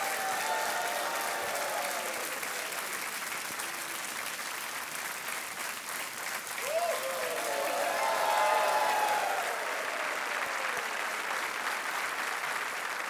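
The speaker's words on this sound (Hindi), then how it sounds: "तालियां बजती रहे।" A studio audience at a televised quiz show applauds steadily and at length, a dense wash of clapping that swells slightly toward the end.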